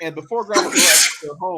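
A single loud, breathy sneeze bursts out in the middle of a person's speech, with talking before and after it.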